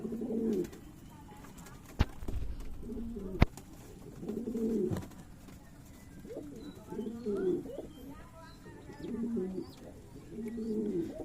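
Giribaz pigeons coo at a pigeon farm in soft, repeated rolling calls that come in regular bursts, with two sharp clicks and faint chirps in the background.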